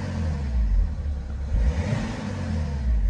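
A modified BMW X6 with the M57 diesel, 360 horsepower, revving up in a few rising and falling surges, a deep rumbling engine up close with no talk.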